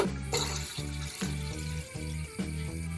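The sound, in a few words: water being poured into pot for lemon pickle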